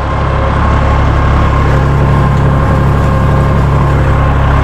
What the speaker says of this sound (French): le plaisir que je retrouve d'utiliser ce tracteur, c'est vraiment avec le bruit qu'il fait maintenant là